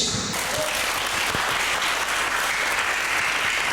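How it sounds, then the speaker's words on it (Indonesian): Church congregation breaks into applause during a sermon, a steady, dense burst of many people clapping close by, filling the room evenly without a break. "Tepuk tangan bagi Yesus"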